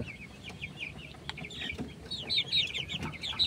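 Filipino gamefowl roosters cluck repeatedly over a dense farmyard background, with the calls growing louder and busier toward the end.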